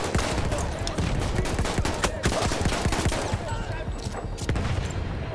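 Steady gunfire from the player's weapon in Battlefield 1, a dense run of sharp shots over a loud wartime battle din, with talk woven through.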